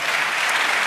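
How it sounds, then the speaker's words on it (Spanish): A church congregation applauds in a dense, even burst of clapping that lasts the whole moment, with no voices over it. "Denle un aplauso al Señor."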